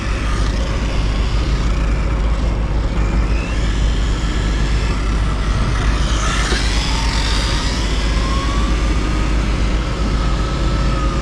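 A brushless Kyosho Fazer MK2 RC car with a Chevy Chevelle body drives outdoors, its electric motor whining and rising in pitch over a constant rough rumble of wind and tires.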